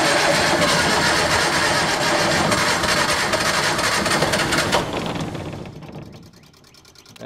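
A new Onan military diesel generator starts after 24 years of storage and runs with a loud, dense, rattling engine roar that then settles and fades toward a quieter idle.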